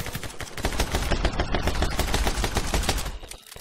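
Rapid, dense gunfire from My Friend Pedro, a side-scrolling shooter game, sounds as a loud, continuous volley of shots for several seconds before tapering off near the end.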